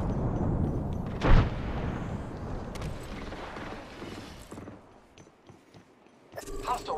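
In Apex Legends, a frag grenade goes off with one sharp loud blast early on. Clattering gameplay noise and scattered shots follow, fading out before another burst of activity near the end.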